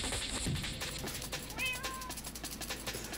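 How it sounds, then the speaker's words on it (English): A Minecraft cat gives a couple of short, clear meows partway through, over steady background game sound. "It's a cat."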